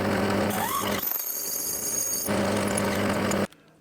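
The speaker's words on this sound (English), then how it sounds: "with the lathe, the drill stays still and the work turns" Lathe drilling a 9.5mm hole, the workpiece spinning against a fixed drill: a loud, gritty mechanical whir with a shift in tone midway, then a sudden stop into near silence.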